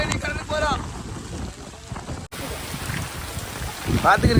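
Strong wind buffets the microphone over rushing water and rain during a storm at sea on a fishing boat off Rameswaram, with brief shouted voices near the start and end.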